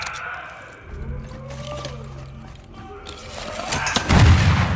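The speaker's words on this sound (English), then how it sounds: "impact onto the zombie, and then like the explosion" Zombie-game combat audio in the style of The Last of Us: wet fleshy impacts and clicks build over a low rumble, ending in a loud, close booming explosion with a dense crackling tail.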